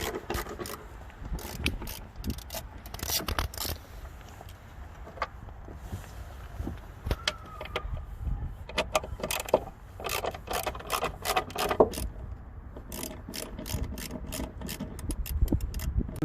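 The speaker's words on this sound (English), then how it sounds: "we're going to start off by taking off the Phillips screws" Phillips screws being unscrewed from a car's rear light unit, producing close, quiet scraping and clicking ratchet-like sounds that continue steadily for about sixteen seconds with no talking.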